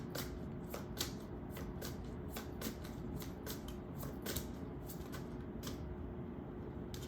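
Tarot cards are shuffled and drawn in a quick, even rhythm of soft riffling flicks, quiet and close over a steady low background hum.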